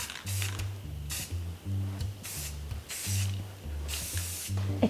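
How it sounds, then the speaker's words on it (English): White spray paint hissing from an aerosol can onto artificial Christmas greenery in several short, close bursts with brief gaps between them, over a low rhythmic hum in the background. "I just need to give the Greenery a spray, just like a coating of some white spray paint"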